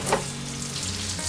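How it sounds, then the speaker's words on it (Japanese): Bread rolls shallow-frying in plenty of oil in a frying pan give a steady, close hiss and crackle of sizzling fat, with a brief soft clink near the start and no voices. "多めの油で揚げ焼きにしようと思います。"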